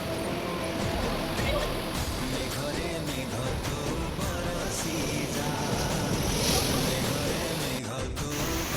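Ocean waves at Puri beach wash in a continuous roar with strong wind buffeting the microphone, loud and close throughout, with voices mixed into the surf.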